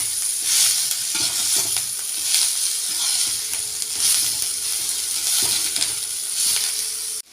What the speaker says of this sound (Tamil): அதையும் போட்டு நல்லா வதக்கணும்.